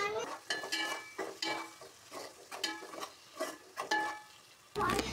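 A spoon stirs potato pieces with salt and turmeric in a pan for aloo curry, making repeated scraping strokes in a loose rhythm over a faint frying sizzle, and ends with a louder clatter.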